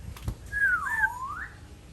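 A parrot gives a single clear whistle, rising then dipping and curving back up over about a second, close and fairly quiet with a couple of soft thumps before it.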